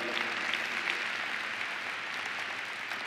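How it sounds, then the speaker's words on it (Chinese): An audience at a leadership training event claps in a dense, even burst of applause. It holds steady throughout at moderate loudness, with no speech over it. "所以给你们自己一个掌声"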